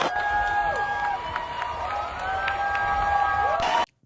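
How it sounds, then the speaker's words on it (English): A crowd claps and cheers for Don Lemon inside a church after a Sunday mass was disrupted, a steady din of applause and voices with tonal whistles or calls over it, ending abruptly. "People clapping for Don Lemon."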